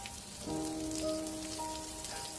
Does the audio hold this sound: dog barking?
no